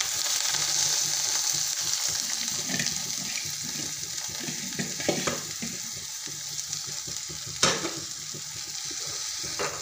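Finely chopped amaranth greens go into a hot pan and are stir-fried, giving a continuous close sizzle with scraping stirs and a few sharper knocks of the spoon against the pan.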